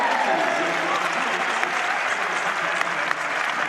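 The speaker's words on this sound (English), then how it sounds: "this crowd voicing their approval" A basketball crowd at Iowa State versus Colorado breaks into loud, dense applause and cheering that holds steady the whole time, a close, full wall of clapping with voices mixed in.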